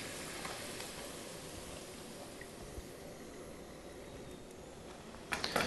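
French fries fry in hot oil on a stove, a steady close sizzle throughout, with a few clattering bumps near the end.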